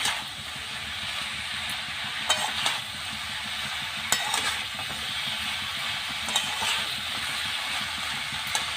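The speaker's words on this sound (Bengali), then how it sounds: "এবারে বাঁধাকপিগুলোকে দিয়ে ভালো করে মশলায় মাখিয়ে নেব।" Cabbage is stirred into spice masala in a pan for badhakopir dom, a soft steady sizzle with occasional spatula scrapes and clinks, quiet and close, with no voices.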